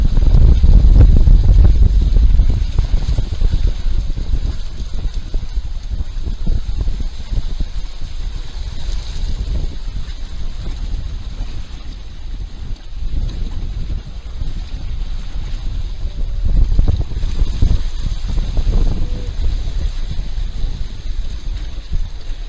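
A sailboat moves under wind through the Ten Thousand Islands in Everglades National Park, bound for Mormon Key, with steady rushing wind and water noise throughout. A low buffeting rumble is strong at the start, and there is no clear speech.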